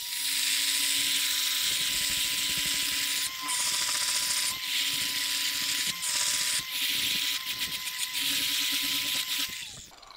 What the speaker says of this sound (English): I'm gonna bring my grinding disc, my grinder speed down pretty much all the way